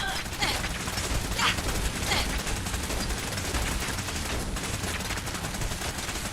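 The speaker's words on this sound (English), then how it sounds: "This turret's actually good." A gun turret fires in Fallout 4, a dense, continuous rattle of rapid shots and impacts running the whole time, loud and near, with a voice speaking over parts of it.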